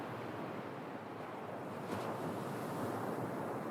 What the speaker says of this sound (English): There's ocean sounds up here.